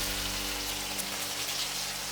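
Chopped onion, tomato and curry leaves sauté in hot oil in a pan, giving a steady, soft, even sizzle with a low background hum throughout.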